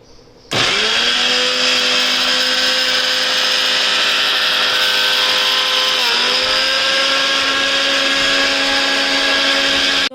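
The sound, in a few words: blender making apple fruit juice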